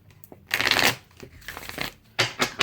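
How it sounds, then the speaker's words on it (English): Tarot cards shuffled by hand at close range, with bursts of riffling and sliding that come in uneven waves and pause between them, no talking. "I'm gonna shuffle here before we get into my Libra reading."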